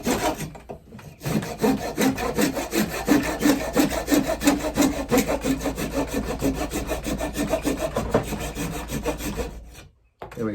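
Steady back-and-forth sawing through a wooden axe handle, loud and close, with rhythmic rasping strokes for several seconds before stopping.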